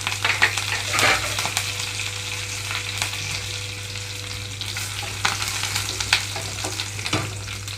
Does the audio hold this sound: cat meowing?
no